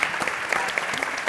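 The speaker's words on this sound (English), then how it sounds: "Maybe we can give them a round of applause." Audience applauding panelists at the close of a California education policy conference panel; dense, steady clapping from a crowd throughout, fairly close and continuous.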